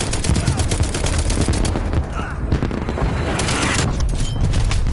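Rapid heavy gunfire from a gunship in a video game, dense bursts of booming automatic shots rolling continuously with short pauses, loud and layered over faint game sounds.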